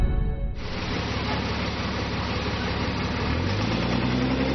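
A city bus engine starts up and pulls away from a stop, a loud steady low rumble that settles in after a brief quieter moment and keeps running throughout, with no voices.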